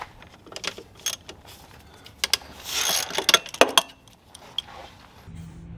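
A ratchet wrench working loose the negative battery terminal on a Toyota Camry, bursts of close metallic clicking and clinking with clattering tool handling between them, loud then briefly quiet, no talking.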